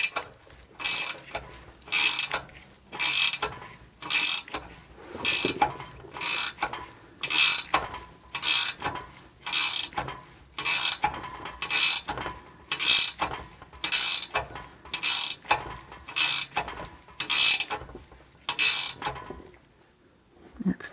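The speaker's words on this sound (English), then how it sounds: "let's keep going here with a shorter wrench" A short ratchet wrench clicks in regular bursts on a Toyota exhaust stud nut, close and crisp, repeating about twenty times with brief pauses between strokes.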